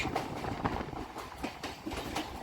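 Kolkata circular railway train entering Lake Gardens station, a steady rumbling roll with faint rhythmic clatter of wheels over rail joints, continuous and moderately loud throughout.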